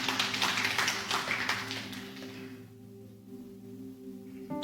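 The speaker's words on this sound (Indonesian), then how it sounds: "Boleh berikan tepuk tangan bagi Tuhan?" A church congregation at a sermon claps together, a run of steady rhythmic hand claps that fades out after two seconds, leaving a sustained low organ or keyboard tone underneath.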